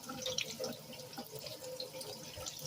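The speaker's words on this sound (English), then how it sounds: "when you're about to chop onions, to rinse them under cold water anyhow" Cold tap water running over an onion as it is rinsed in a sink, a faint, steady trickle and splatter with small drips, close by and without speech.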